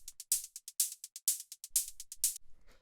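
White-noise hi-hats for a minimal house track play alone in a quick, even pattern of short bright noise bursts, some open and longer, others clipped, with faint low thumps near the end.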